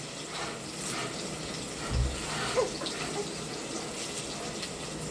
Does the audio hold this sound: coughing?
no